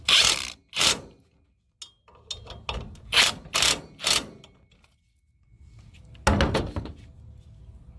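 A ratchet snugs up 13mm bolts on the water pump of a 1994-1997 Ford F250/F350 7.3 Powerstroke diesel, sharp clicking bursts in several separate runs with pauses between, close and fairly loud.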